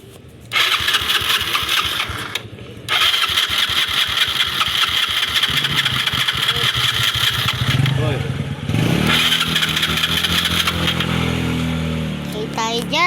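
A car engine cranks briefly, stalls, then starts and idles roughly after its ignition coil and spark plugs are replaced, running steadily close by with a short break and people talking over it.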